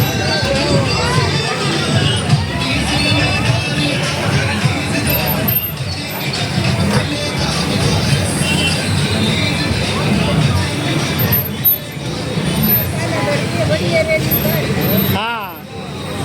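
A dense crowd at a political rally in Dwarka keeps up a constant loud babble of many voices, with road traffic rumbling underneath and a brief dip near the end.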